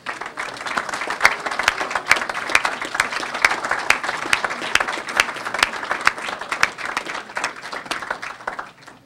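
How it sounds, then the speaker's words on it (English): Sustained applause from a school board meeting audience, students clapping for standing families, dense steady clapping at moderate loudness for several seconds. "would you please stand so that the students and I can applaud the nurturing environment you have"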